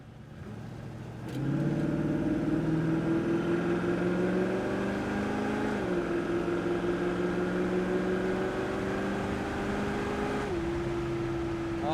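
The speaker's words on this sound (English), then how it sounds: "Car has good acceleration, gets up there." A 1967 Chevrolet Chevelle SS V8 accelerates hard from inside the car, its engine note rising steadily through a long pull with a brief dip at a gear change, loud and close with no talk.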